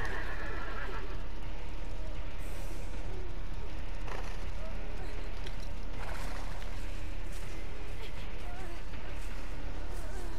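A horse whinnies in the Dead by Daylight video game over a dense, loud game soundscape of rumbling ambience and clip-clop-like rustles, with a few bright cries standing out.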